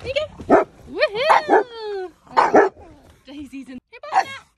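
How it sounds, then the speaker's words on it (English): An excited pug in a car lets out a close, loud run of short barks, yips and high whining whimpers in quick bursts with brief pauses between. "You don't even know what you're barking at, do you?"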